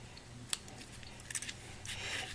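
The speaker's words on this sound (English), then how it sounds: "so that I can then come in with my paper snips" Paper snips cutting a folded sheet of paper leaves for a fancy fold card, giving a few faint crisp snips spaced out over quiet room tone.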